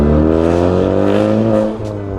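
Big turbo Ford Focus ST exhaust revs loud and close, a strong rich drone climbing in pitch and then easing off near the end.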